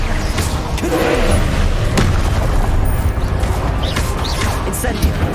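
Blasting-spell explosions from the Hogwarts Legacy video game, a dense run of booming, crashing bursts with sharp cracks over a heavy low rumble, loud and close, with game voices underneath.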